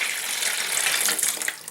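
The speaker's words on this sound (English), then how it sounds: "I'm just going to pour the old water out here" Old water is poured out of an electric kettle, a steady splashing gush of liquid running continuously for nearly two seconds, close and fairly loud with no talking.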